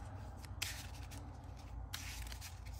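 Playing cards from a Marvel Champions game are shuffled by hand at close range, heard as two short riffling bursts over a quiet background.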